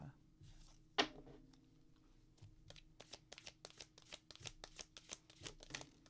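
Advice cards for a tarot-style reading are shuffled nearby: one sharp tap, then a quick series of soft riffling flicks and slaps, quiet and close, with faint voice in the background.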